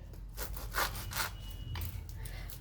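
Fresh leafy vegetable stalks and greens cut finely with a knife in a home kitchen, giving a steady close rasping, scraping sound with a few louder strokes and no talking.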